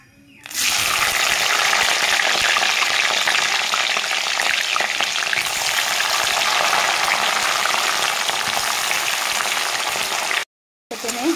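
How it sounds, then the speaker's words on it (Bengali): Onions frying in hot oil with bay leaves in a pan for a Bengali mutton kosha, a loud, steady sizzle that starts abruptly and carries on without a break, then cuts out briefly near the end. "তেজপাতা গরম হয়ে গেছে, দিয়ে দিব পেঁয়াজ।"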